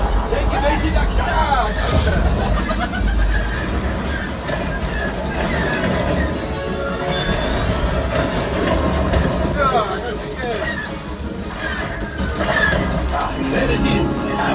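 A rumbling train effect on the Millennium Falcon Smuggler's Run ride at Disneyland plays loud and continuous for the whole stretch, mixed with ride sound effects and voices talking over it.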